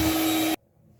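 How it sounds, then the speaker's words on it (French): An electric mixer whirs loudly and steadily through muffin batter for half a second, then cuts off abruptly, leaving faint background noise. "Et là, on va mixer."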